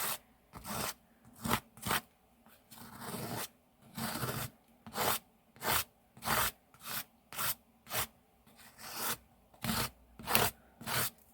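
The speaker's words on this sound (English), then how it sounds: "I'm just going to scrape my modelling paste through like I'm buttering toast" A thick palette knife drags modelling paste across a surface in a series of short, rhythmic rasping strokes, each scrape close and distinct with brief pauses between them.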